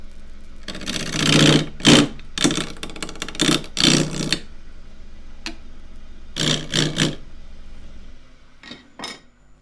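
A wooden block for a rectangular bowl being turned on a lathe with a 1/2 inch spindle gouge, giving loud, rough scraping cuts in repeated bursts separated by short pauses.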